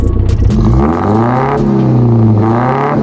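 The engine of a Datsun 1200 pickup roars loud and close, revving up and easing back in rising and falling sweeps, with no talking.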